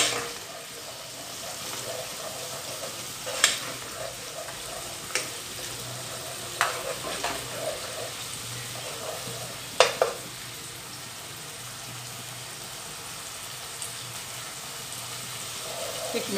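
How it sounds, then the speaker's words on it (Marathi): Onions frying with a spoonful of ginger-garlic paste in a pan while being stirred for masala bhindi, a steady low sizzle under a few sharp clinks of a spoon against the pan, close and fairly quiet. "एक मिनिट छान परतत राहायचं कांद्यामध्ये"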